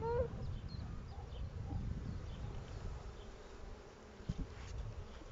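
Dense buzzing of many honey bees at a hive hums steadily at close range, a continuous swarm drone with occasional faint chirps in the background.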